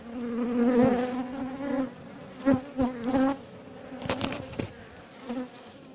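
A queenless honeybee colony buzzes up close, with a steady drone overlaid by individual bees flying past in louder swells and several sharp close passes, no talking.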